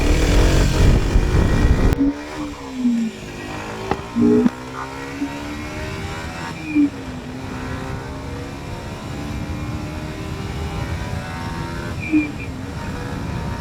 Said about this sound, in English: Let's show what the 125 Ninja is capable of.